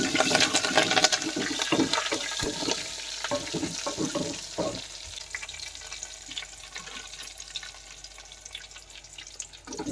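Curry leaves hit hot oil for tomato chutney, bursting into a loud crackling, spitting sizzle that gradually calms to a softer, steady frying hiss.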